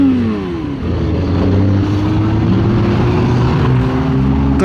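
A car drives past on a road, its engine rising and falling in pitch as it revs by close and loud, heard alone with no talking.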